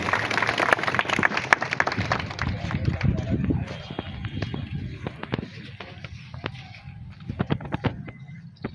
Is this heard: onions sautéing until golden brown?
no